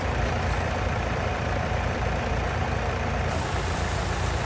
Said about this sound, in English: Quickly swap over to our tractor